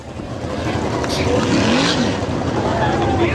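A sprint car engine drones loudly on a race track during a 2014 sprint car race, a steady roar blended with dense track and crowd noise, with indistinct voices underneath.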